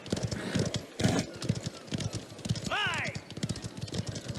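Horse hooves clip-clop in a steady trotting rhythm in the video game Mafia: The Old Country, with a brief whinny midway and people talking over the hoofbeats.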